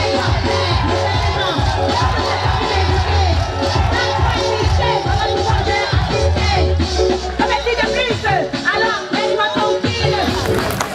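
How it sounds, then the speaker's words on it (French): A lively crowd cheers and whoops at an outdoor festival of local performers in a packed square in Cameroon, loud and continuous over thumping music, with voices mixed in. "Applaudissez encore pour lui"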